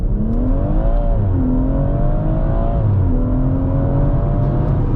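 A 440bhp BMW M140i Shadow Edition accelerates hard from a launch, its engine note climbing through gears with rising harmonics and brief dips at shifts, loud and close from inside the cabin, with steady road roar beneath and no talking.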